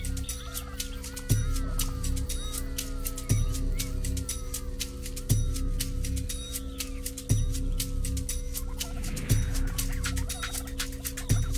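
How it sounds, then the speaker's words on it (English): Australian brush turkey, a black-bodied mound-building bird with a bare red head and yellow wattle, giving repeated low calls at roughly two-second intervals over a steady outdoor background of insects and birdsong. "The Australian brush turkey, with its mainly black body plumage, bare red head, yellow throat wattle, and laterally flattened tail, is a very common mound-building bird in Australia."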